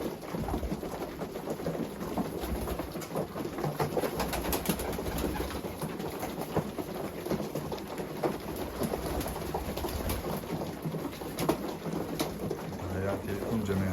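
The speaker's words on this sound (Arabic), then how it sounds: "زين هاي الطواير." Iraqi pigeons kept in Germany coo in a steady, dense chorus against a constant rushing noise like rain, with occasional low rumbles underneath.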